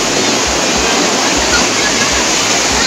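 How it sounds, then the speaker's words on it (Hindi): Umngot River rapids rush in a steady, loud, broadband roar of flowing water that stays constant throughout with no pauses. "और दुबे जाओ उस रैपिड में गिरो जाके"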